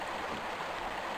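Steady rushing river water in the game Tomb Raider I Remastered, a continuous, fairly loud broadband flow with no voices over it.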